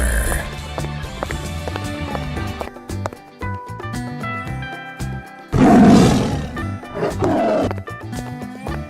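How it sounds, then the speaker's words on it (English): Several loud tiger roars, one especially heavy burst in the middle, play over busy game music and effects, with running footsteps and hoof-like clatter mixed in. "Tiger."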